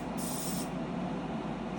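A steady hiss of spray from a pressurized cleaning sprayer runs continuously for a couple of seconds under a powerful suction fan roar, with no speech.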